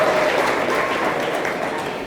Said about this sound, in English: All right, we got, round of applause.